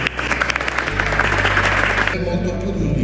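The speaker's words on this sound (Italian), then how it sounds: "vi chiedo un applauso." Audience applause at a Made in Sicily event at the Italian Embassy in Berlin, a dense burst of clapping over a steady low hum that thins abruptly after two seconds into quieter scattered claps.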